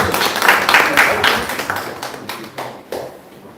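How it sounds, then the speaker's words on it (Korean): An audience at a lecture on strategic social media marketing applauds to welcome a speaker, a dense burst of many hands clapping that swells early and then thins out and fades over a few seconds. "뜨거운 박수로 환영해 주시면 감사드릴게요."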